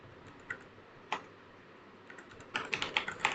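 Keys clatter on a computer keyboard, starting with a few isolated taps and ending in a quicker burst of close, light clicks. A quiet room tone sits underneath.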